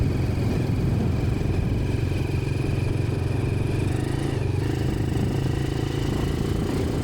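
A motorcycle being ridden, with a steady mid-pitched engine drone and a constant rumble of wind and road noise, close and unbroken, no talk.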